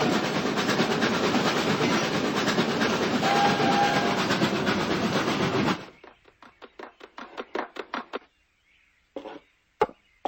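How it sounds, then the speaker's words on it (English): A toy model train runs along its tracks, a dense steady rumble for several seconds that stops abruptly, followed by a string of sharp rhythmic clicks and a few isolated knocks, close and alone. "the way your model train brings us our milk and cookies."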